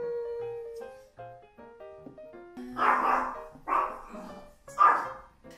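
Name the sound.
dog barking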